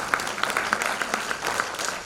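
An audience after a lecture at the Science Club of Hyderabad claps steadily, with a few sharper individual claps standing out in the continuous, moderately loud patter of the room.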